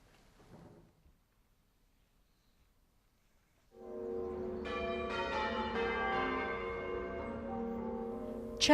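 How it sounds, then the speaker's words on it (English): After a near-silent stretch at a hillside cemetery memorial, church bells begin ringing loudly, their tones layering and sustaining into a rich, resonant peal. "Church bells broke the silence."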